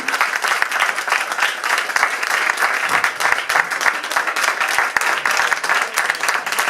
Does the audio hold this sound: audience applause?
yes